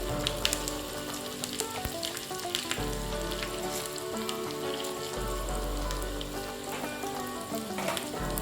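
Spices, green chilli and a pinch of asafoetida crackle and sizzle steadily in hot oil for tempering, a continuous, fairly loud frying hiss with small pops throughout.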